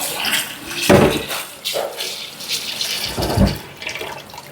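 Fish being rinsed under running tap water, with uneven splashing bursts and gushes as the water hits the fish and a basin, heard up close.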